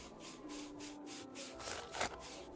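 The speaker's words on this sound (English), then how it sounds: "Just move the file back and forth along the tip." File scraping back and forth along a horn tip in an ASMR roleplay, soft close rasping strokes in a steady rhythm of about two per second, quiet and intimate with no talking.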